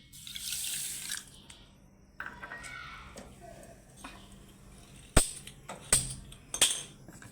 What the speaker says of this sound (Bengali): এখানে আমি একটা বাটি নিয়েছি, এক বাটি চিনি দিয়েছি, আর এক বাটি জল।